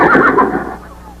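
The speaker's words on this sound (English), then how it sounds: "Sounded like a horse." A single loud, close horse whinny, a shrill quavering call that falls and fades out within about a second.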